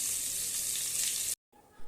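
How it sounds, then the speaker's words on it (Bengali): Loud, steady sizzling of whole pointed gourds frying in a hot pan, cutting off abruptly near the end, followed by quieter background. "পটলগুলো গোটা গোটা কেটেছি কেটে এই যে ভাজছি"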